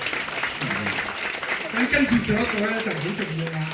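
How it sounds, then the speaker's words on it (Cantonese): An audience applauds at a film commemoration event as a guest director is introduced, a short burst of clapping running under a host's lively spoken introduction. "我哋熱烈嘅掌聲佢啦"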